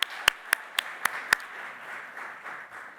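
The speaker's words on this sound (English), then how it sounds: "Let's give him another round of applause." A small audience gives a short round of applause at a Juneteenth community gathering: a few distinct loud claps up close, then a softer, thinning patter of hands fading out.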